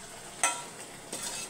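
Tempering spices for a tamarind greens dish crackling in a hot pan, a short soft hiss with two brief bright pops of sizzle, close and without talk.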